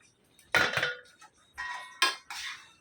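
Fried chicken is stirred into red Mughlai masala in a pot, a spoon clanking and scraping against the metal in several separate bursts, close and clear, with no talking.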